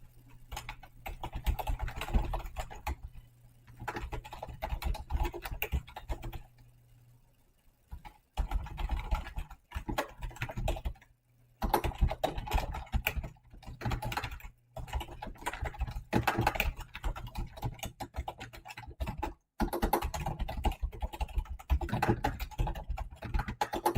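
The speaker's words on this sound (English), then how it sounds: "If you hear a lot of typing, it's because I'm just taking note of a game I played in the tournament yesterday." Steady computer keyboard typing with rapid, uneven keystrokes while notes are taken on a chess game played in a tournament, continuing through most of the stretch with a few brief pauses and a faint hum underneath.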